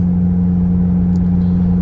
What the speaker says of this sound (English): Do we get any little exhaust note going up the mountain?